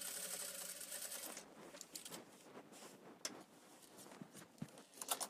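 Sewing machine stitching a Christmas table ornament: after a brief whirring run at the start, quiet, close mechanical clicks and light taps follow in irregular short bursts, faint and with no voices.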